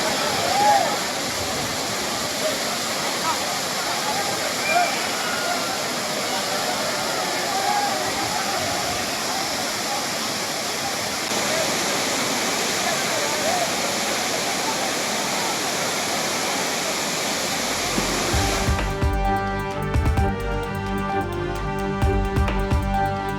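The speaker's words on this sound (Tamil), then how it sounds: "ஆர்ப்பரித்து கொட்டும் அருவி நீரில் பொதுமக்கள் உற்சாக குளியல்." Roaring Courtallam waterfall crowded with bathing tourists, a loud continuous rushing cascade under a news narrator's voice, ending as music cuts in.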